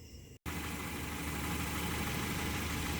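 A car engine starts and settles into a steady, loud, even idle that rumbles on without a break.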